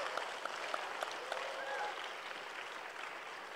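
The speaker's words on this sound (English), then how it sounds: "come on, we can clap for that" A church congregation at a Sunday night service claps in a soft, distant patter that stays steady and fairly faint for a few seconds.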